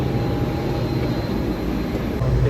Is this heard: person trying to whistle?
no